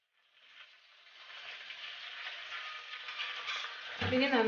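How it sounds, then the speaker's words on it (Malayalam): Banana chips frying in hot oil with salt water added, a steady hiss that builds from silence to a loud close sizzle, with a short clatter near the end. "ഇനി നന്നായിട്ടൊന്ന് ഇതിൽ കിടന്ന് നന്നായി തിളച്ച് ഒന്ന് ഫ്രൈ ആയി വരട്ടെ."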